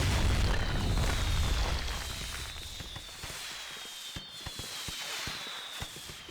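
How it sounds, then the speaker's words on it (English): A bomb going off in the video game Max Payne 3: a loud, wide blast rumbles at the start, then fades into a lower roar with scattered crackles and debris-like clicks. "A făcut o bombă."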